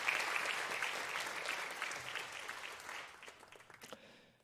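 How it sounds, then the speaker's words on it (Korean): A church congregation claps together during a Sunday worship service, a dense, steady wash of applause that gradually thins and fades toward the end. "우리 박수로 해주시고 앉겠습니다"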